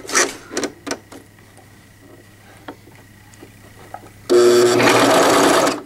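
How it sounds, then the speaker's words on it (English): A sewing machine runs a regular straight stitch on fabric, a steady close whirring burst of about a second and a half after several sharp clicks and handling taps. "I'm just using a regular straight stitch here."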